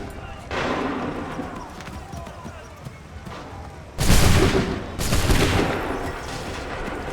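Two sharp, loud musket volleys from a line of soldiers in Assassin's Creed III, each crashing out and decaying over a noisy battlefield ambience. The second follows about a second after the first.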